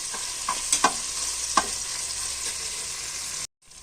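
Tomato pieces stirred in a frying pan for vegetable rice: a hissing sizzle with a few spatula scrapes and knocks, close, cutting off abruptly near the end with no speech.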